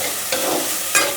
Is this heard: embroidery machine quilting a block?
no